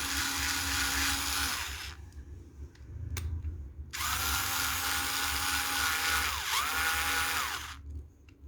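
A rechargeable electric drill whirs loudly up close in long bursts, stopping briefly between runs as it is switched between forward and reverse.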